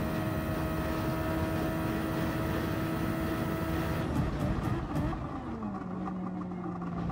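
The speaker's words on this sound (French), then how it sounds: "Super Formula, c'est une Formule 1 boostée." A Super Formula race car in Gran Turismo racing, its engine a steady high whine that shifts pitch partway through as the car changes speed, fairly faint and with no voices.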